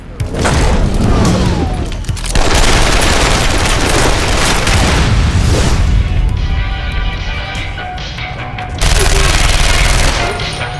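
Heavy gunfire fills an action film scene as long bursts of machine gun fire crash and boom loudly and almost without pause, with a short lull before another barrage.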